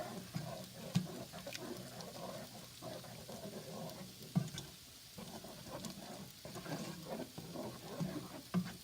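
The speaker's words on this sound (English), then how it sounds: "I'm going to give that a good stir." A spoon stirring tomato puree and spices in a cooking pot, with a steady, moderately loud scraping and sloshing plus a low simmering sizzle and a few soft knocks against the pot, with no voices.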